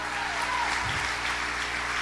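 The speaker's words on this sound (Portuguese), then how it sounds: "Primeiro aplaude a Jesus." A church congregation claps in praise of Jesus during a worship service, a steady, dense round of applause filling the whole short moment, with a low murmur beneath.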